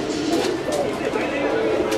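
Hobby pigeons in a loft of about 150 pairs coo in low, rolling, overlapping calls, with faint voices in the background.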